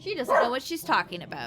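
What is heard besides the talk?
dog barking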